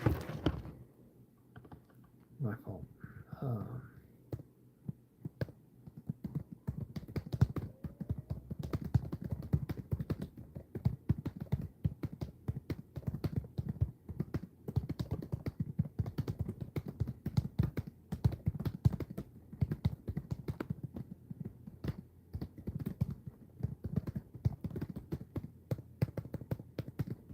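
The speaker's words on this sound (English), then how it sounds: "You can't even see what I'm typing." Steady typing on a computer keyboard, with dense rapid clacks in uneven bursts close to the microphone, continuing throughout with a brief spoken remark near the start.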